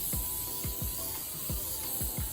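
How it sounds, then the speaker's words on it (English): Extra virgin olive oil is sprayed into a baking dish, a steady faint hiss broken by repeated soft clicking thumps of the pump, close and without talk. "I'm gonna spray the sides too so it doesn't get stuck"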